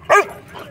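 A dog gives a single sharp bark up close at an outdoor dog park where a French bulldog, a German Shepherd and a Cane Corso puppy are playing, with faint background noise after.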